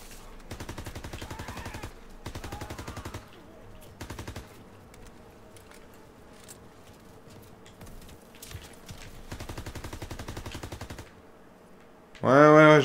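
Machine-gun fire in the World War II shooter Call of Duty WWII comes in repeated rapid bursts, loud and rattling, with quieter gaps between volleys and a brief louder burst of noise at the end.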